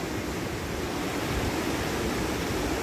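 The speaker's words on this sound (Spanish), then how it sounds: "Aquí pueden ver el río." River flowing at Poza de la Laja in Tehuetlán, Hidalgo, a steady broadband rush of water that holds even and continuous throughout, with no voices.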